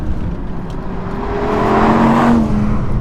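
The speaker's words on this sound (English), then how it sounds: "the engine and the noise it produces are actually a little bit quieter" An Audi R8 RWD Performance Edition engine hums and builds steadily, loud and nearby, rising in pitch as it accelerates.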